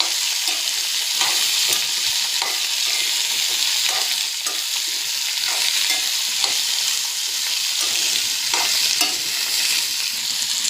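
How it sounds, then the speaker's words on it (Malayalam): Chopped raw plantain and vegetables stir-fry for upperi, hissing in a continuous close sizzle broken by regular scraping stirs of a spatula. "ഒന്ന് ഇളക്കി കൊടുക്കാം കേട്ടോ"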